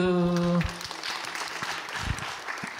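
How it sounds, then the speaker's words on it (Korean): Audience at a high school information session breaks into applause for the student council president and vice president, a soft spread of clapping following a sustained tone, with a voice talking over it. "박수."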